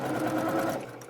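A sewing machine stitches fabric mask pieces in a brief, steady, close whir of rapid needle strokes, winding down at the very end, with no voices.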